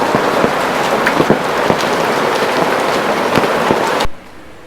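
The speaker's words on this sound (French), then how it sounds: "Maintenant il grêle." Dense pattering of hail on a hard surface during a thunderstorm near Titisee in the Black Forest, with sharp individual ticks and impacts, cutting off abruptly near the end.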